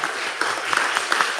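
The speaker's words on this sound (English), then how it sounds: "Please give them a round of applause." A brief burst of applause from a crowd at a county board of education work session, a dense wash of clapping with a few sharper claps standing out.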